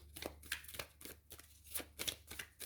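Tarot cards are cut and shuffled by hand in quiet, rapid papery flicks and slaps, a brisk irregular rhythm heard close up with no talk.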